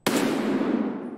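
A gunshot in a woods raid video game, the shot hitting a target in the leg: one sharp, close report with a long decaying tail, heard alone.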